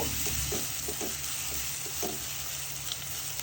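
Onions and whole spices frying in a pan while being stirred, a steady close sizzle broken by soft scraping stirs roughly every half second, with no talking.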